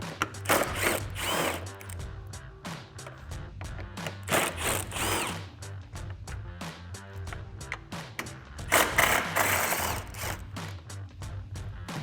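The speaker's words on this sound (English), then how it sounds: "grab a 10mm socket. I'm gonna use an extension to make life just a little easier here" A ratchet with a 10mm socket on an extension works bolts loose beneath a black bezel on a 2015-2017 Ford F-150, giving repeated bursts of close clicking and turning.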